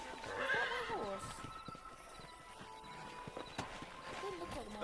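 In Red Dead Redemption a horse gives a loud, close whinny, followed by hooves clopping at a walking pace over ambient game sound and background music.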